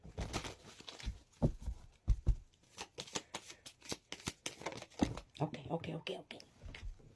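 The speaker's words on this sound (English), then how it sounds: "Just shuffle again." Oracle cards shuffled by hand in a run of quick papery riffles and slaps, close up and fairly quiet, with a voice speaking softly between them.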